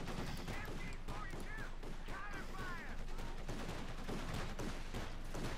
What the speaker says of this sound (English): hammered by the half track. Double 50 calibers and a 30 from the gun.